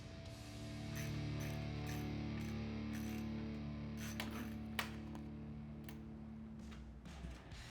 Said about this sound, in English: Using a 5mm Allen wrench, install the M8 stud bolts into the 6 mounting locations you chose.